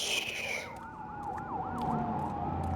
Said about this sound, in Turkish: Polis sirenleri.